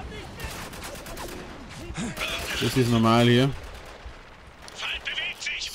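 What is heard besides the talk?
gunfire in video game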